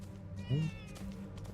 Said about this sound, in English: Oh, no, it's a kitty cat.